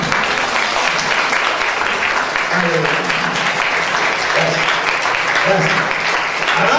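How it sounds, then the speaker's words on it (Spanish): A church congregation at a Christian ministry service claps loudly and steadily, a dense continuous round of applause with a few voices heard underneath. "Vamos a dar un fuerte aplauso al Rey."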